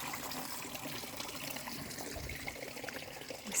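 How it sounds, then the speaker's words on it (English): A garden water feature in the corner of a patio trickles softly and steadily, a faint, continuous flow of water with no voices present. "This is the water that you could hear. The water feature in the corner of the patio."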